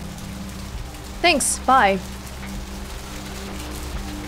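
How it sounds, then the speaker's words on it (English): Steady rain patters across the whole scene in the video game Vampire: The Masquerade - Bloodlines, a constant soft hiss with a low hum beneath, while a short spoken exchange rises briefly over it. "Oh, everyone's taking cover because it's raining right now."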